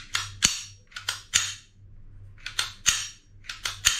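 A new Retay blank pistol fired repeatedly, sharp loud cracks in quick pairs and bursts with short echoing tails and brief mechanical clicks between, no talk.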